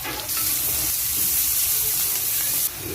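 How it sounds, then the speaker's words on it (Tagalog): Garlic and onion hit hot oil in a pan where pork was just fried for Filipino binagoongan, giving a loud, continuous, bright sizzle and hiss that holds steady for a few seconds, with no talking. "Dito tayo guys magigisa. Sama ko na pala yung bawang sibuyas."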